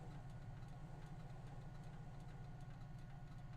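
A Porsche engine in a video game rumbles low and steady as the car creeps along slowly, faint and continuous with a light pulsing idle.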